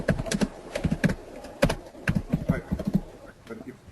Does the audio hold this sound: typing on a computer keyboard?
yes